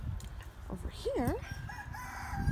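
A chicken crows once on a farm, a short, wavering, fairly close call over low background rustling and farmyard noise.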